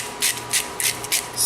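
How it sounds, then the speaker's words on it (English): A hand salt grinder cranks out four short gritty grinding bursts in an even rhythm, each about a fifth of a second long, close up and fairly quiet, with no voices. "just give this a few grinds of"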